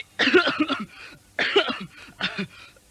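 A man standing in a lined-up squad coughs in three harsh, close bursts, each a rapid run of hacking coughs separated by brief pauses.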